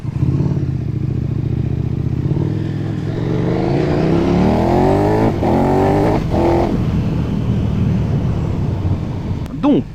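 A KTM 1290 Super Duke R motorcycle riding through town, loud close engine roar rising and falling through gear changes, revving up then dropping as shifts are made, with a sharp pop near the end.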